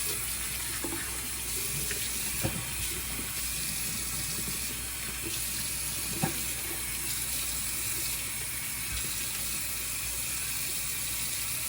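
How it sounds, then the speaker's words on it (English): A bathroom faucet runs steadily while a razor is rinsed under the stream, giving a continuous close water hiss broken by a few faint knocks and clinks. "Let me rinse this off real quick"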